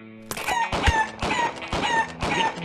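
Cartoonish chicken clucks and crows in rapid, bright bursts from a duck-hunting shooter video game, several squawks in a row with sharp clicks between them, loud and without talk.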